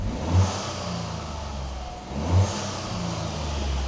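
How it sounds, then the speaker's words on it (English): A Toyota GR Yaris sports car engine rumbles steadily with a deep exhaust note, rising briefly in two quick revs. "none of it seems to make any sort of difference towards exhaust note whatsoever"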